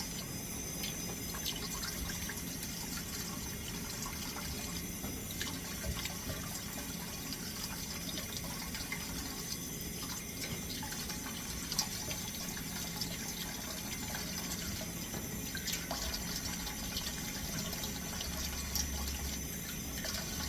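Kitchen tap running steadily while a spatula is wet for smoothing a glazed all-beef meatloaf, a soft, even hiss of water that continues without break, low in level and with no speech.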